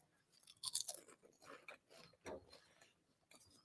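Crisp crunching and chewing on dehydrated kale chips, dried three hours in a dehydrator, in several close, irregular bites with brittle cracks, heard alone.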